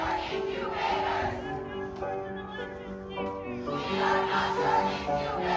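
A protest crowd in Justice Alito's Virginia neighborhood chants and shouts in the distance while a neighbor plays a melody over it, with voices swelling and fading in waves.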